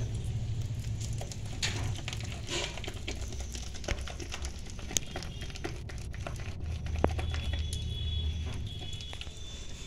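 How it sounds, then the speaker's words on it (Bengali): Black gram lentil batter is beaten by hand in a bowl, producing soft, irregular wet patting and squishing with scattered sharp clicks, steady and close with no voices. "এরপর খুব ভালো করে আমি ফেটিয়ে নিচ্ছি।"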